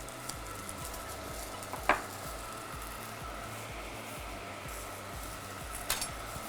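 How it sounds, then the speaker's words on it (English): Caster sugar sizzling in a hot pan with eggs, a faint continuous fizz under steady rhythmic stirring strokes, and two brief metallic taps of a utensil; no one speaks. "I'm adding caster sugar to the pan."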